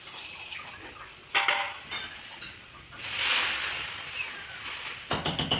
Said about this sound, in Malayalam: നമ്മുടെ മുരിങ്ങാക്കറിയൊക്കെ ചെറുള്ളിയിൽ അങ്ങോട്ട് വറുത്തിട്ട് കഴിഞ്ഞിട്ടുണ്ട്.